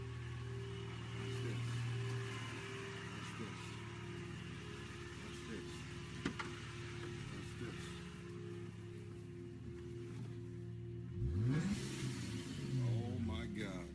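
A car fitted with a twin turbo engine revs, its rising mechanical whine sweeping upward near the end beneath ongoing talk and a steady hum.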